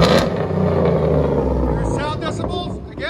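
A Chevy Trailblazer V8 fitted with Dynamax race bullet mufflers rumbles loudly and deeply up close, its engine note swelling in a rev, while people talk over it.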